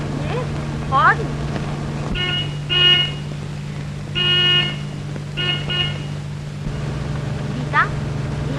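Several short vehicle horn honks sound in repeated blasts over a steady hum on an old 1938 film soundtrack, with voices speaking around them.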